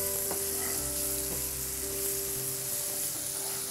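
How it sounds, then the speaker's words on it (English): Ground masala sizzles in hot oil in a pan for South Indian mutton chops, a bright steady frying hiss with a low hum underneath and no talk. "There it is, nice and sizzling over that hot oil."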